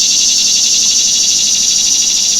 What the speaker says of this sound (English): That's a loud cicada.